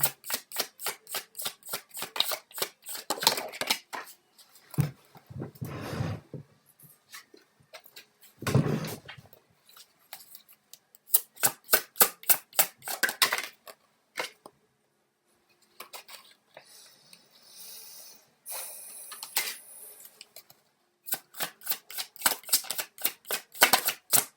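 A deck of tarot cards shuffled by hand, repeated rapid riffles and fluttering snaps in bursts, with rustling handling and short pauses between rounds, close and clear.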